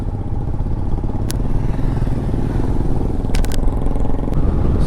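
Royal Enfield Bullet motorcycle with a modified exhaust, its steady loud engine drone and low thump running throughout, with a few brief metallic clicks and clatters on top.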